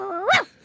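A man imitating a dog with a single rising and falling bark-like yelp from his own voice, short and close, with nothing else around it.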